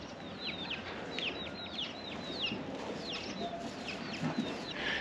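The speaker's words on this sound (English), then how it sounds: "Bunch of roosters." Several roosters clucking and calling in short, rising bursts over a steady outdoor hum on a village street in Nong Khiaw, Laos, with chatter that continues throughout.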